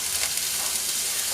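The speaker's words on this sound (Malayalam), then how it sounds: "ഇതിലോട്ട് നമുക്ക് ഈ നമ്മൾ അരിഞ്ഞ് കഴുകി വെച്ചിരിക്കുന്ന കായ അങ്ങ് ഇട്ട് കൊടുക്കാം" Chopped raw banana tipped into a hot pan with a coconut paste for kaya thoran, giving a steady, close sizzle and frying hiss with light stirring, no talk.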